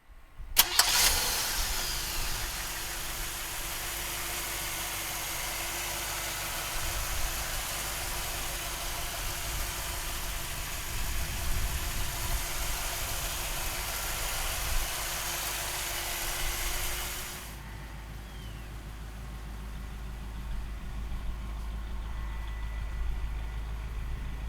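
A 1958 Chevrolet Impala convertible's 348 V8 cranks, fires and settles into a steady, rumbling idle that continues alone for a long stretch before the sound cuts down abruptly.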